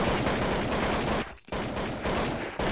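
Rapid bursts of gunfire fill a Counter-Strike match on the de_nuke map, near and loud, with repeated shots striking a player and a brief pause in the middle before the firing resumes.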